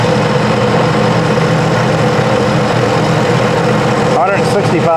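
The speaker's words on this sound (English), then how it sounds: "Engine sounds great." A repaired jet ski engine, recovered after flooding, runs steadily at idle with a loud, continuous low rumble throughout; a voice cuts in briefly near the end.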